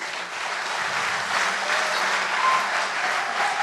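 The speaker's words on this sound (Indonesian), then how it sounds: "Mari kita apresiasi dan kita sambut para penampil dengan tepuk tangan terbaik." An audience applauding dancers after a stage performance at a book launch event, dense steady clapping from a large crowd filling the room without a break.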